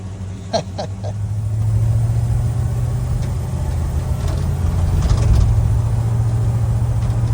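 A 1975 Ford E100 van engine running steadily, a loud low droning rumble with a few brief clicks and knocks near the start.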